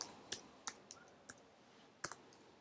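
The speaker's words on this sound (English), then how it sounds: "So I'm just going to quickly type that in." Several sparse, crisp keypresses tapped out a few at a time while a password is entered during setup of a Verbatim MediaShare portable NAS, quiet and close with no talking.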